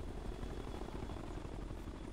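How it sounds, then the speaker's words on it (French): A helicopter in the Ghost Recon Future Soldier video game drones steadily with a low, dense rotor rumble, continuous and fairly loud throughout with no speech over it. "Non, là, l'hélico, faut le laisser passer."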